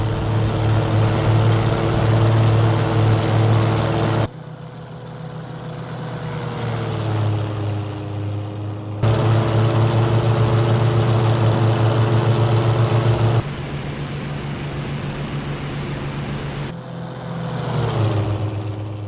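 A Typhoon aircraft rushing across a grass field on takeoff, a loud steady propeller-engine drone with strong tonal hum, heard in several cut sections whose pitch dips and shifts as it climbs.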